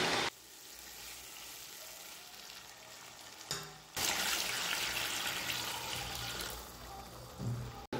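Masala water for a one-kilo quail biryani made with bullet rice bubbles in a pot, a steady broadband hiss and sizzle with a brief break midway, heard close and alone.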